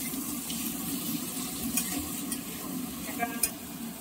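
Onions dropped into hot oil with garlic and green chili in a home kitchen, frying with a steady sizzle and occasional stirring clinks, continuous and close, no talk.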